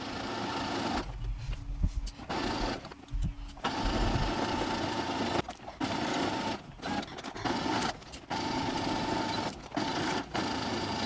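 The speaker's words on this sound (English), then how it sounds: "Now we're going to sew our back and front pieces together exactly the same way, backstitching along the 2 vertical edges." Sewing machine stitching together the back and front pieces of kids' shorts, backstitching along the vertical edges, running in steady motor bursts broken by several short pauses, close and fairly loud.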